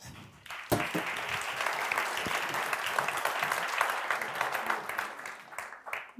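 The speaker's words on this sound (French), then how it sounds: "applaudissez-les" Audience applause that starts abruptly after a brief quiet moment, swells into full, steady clapping and then tapers near the end.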